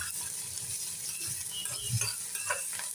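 Onion frying in a pan with sugar and salt added, a steady close sizzle with soft scraping stirs and a couple of light clinks, no voices.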